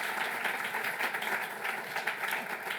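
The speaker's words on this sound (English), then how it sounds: "So please just give Nancy a round of applause" A lecture audience applauds in a hall, a steady, even wash of many hands clapping, fairly soft and distant, with no talking over it.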